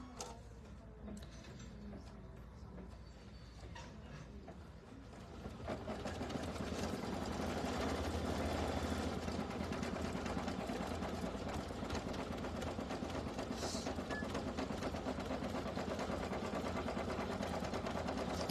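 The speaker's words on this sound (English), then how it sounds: "you're going to do the satin stitch around our felt peaches" Sewing machine satin stitching around felt peaches for a mini quilt, a steady rapid mechanical whirr that starts softer and grows louder after a few seconds, then runs continuously and close with no talking.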